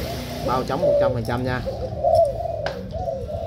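Spotted dove cooing in a bird-selling setting, a few low rhythmic coos repeating under a man's close speech.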